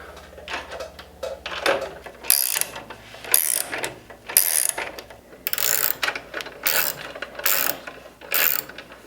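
Ratchet fitted with a 13 mm socket tightening bolts while installing Evotech Performance sliders on an Aprilia Tuono V4 1100RR motorcycle, heard as a run of close, sharp clicking bursts with brief pauses between strokes.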